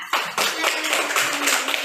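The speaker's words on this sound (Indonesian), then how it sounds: "Beri tepuk tangan untuk kelompok 4" A classroom of students claps for a student group, a short burst of hand claps starting abruptly and continuing at moderate loudness, no speech.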